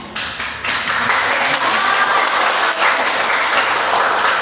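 Audience applause at a talk or marketing event, a dense, steady clatter of many hands clapping close by that swells quickly after a brief start and keeps going loudly to the end.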